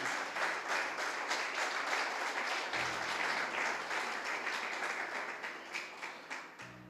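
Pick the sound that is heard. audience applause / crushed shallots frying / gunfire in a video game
audience applause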